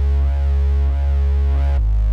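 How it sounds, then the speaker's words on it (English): Deep sustained sub bass layered with a buzzier synth bass, holding steady notes that shift in pitch near the end, loud and without any voices. "so I have my sub bass and my synth bass"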